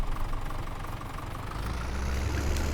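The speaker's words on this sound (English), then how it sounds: "Start the tractor again." A tractor engine in Farming Simulator 17 idles with a steady, close mechanical rumble that thickens and deepens partway through, with no voices.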